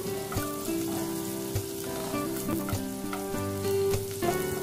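Onion and garlic sizzle steadily in a pan as they are stirred, with scraping knocks from the utensil over continuous frying noise and no talk, while pork liver igado is being cooked.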